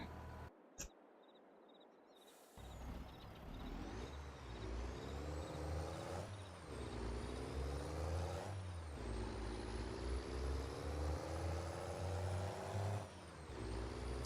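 An air-braked truck in Farming Simulator 22 on an Australian map, with a sharp hiss at the start, then a steady loud diesel engine drone that rises and falls in pitch as it revs through gears.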